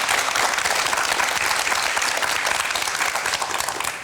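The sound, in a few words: audience applause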